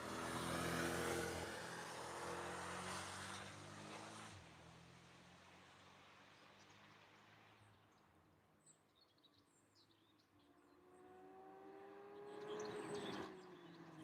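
A Porsche approaches fast on the Nürburgring track, its engine rising from distant and faint to a louder revving pass near the end, after another car's engine fades away at the start.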